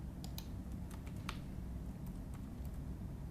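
Fingers type on a computer keyboard in a quiet room, a short run of light, irregular key clicks with brief pauses, faint and close over a low background hum.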